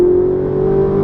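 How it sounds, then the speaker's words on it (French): A sports car, a Ferrari 458 or Lamborghini Gallardo on the Lohéac race track, with its engine held at a steady loud drone, close and continuous with no gaps. "c'est vrai qu'on entend bien le son du moteur aussi"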